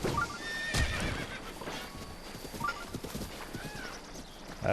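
A horse in the video game Breath of the Wild whinnies loudly near the start, followed by steady clip-clopping hooves and another neigh toward the end, with no talking.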